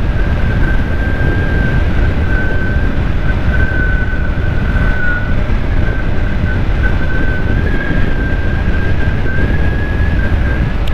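A motorbike ridden along a straight, smooth road through farmland gives a steady, loud roar of wind and engine noise. A thin, sustained whine runs through it without a break, and no one speaks.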